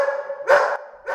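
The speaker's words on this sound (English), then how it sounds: "Those barks you hear are from dozens of dogs awaiting adoption at the current Lafayette Animal Shelter and Care Center." Dogs at an animal shelter bark while awaiting adoption, with several sharp, close barks breaking over a steady background of kennel noise.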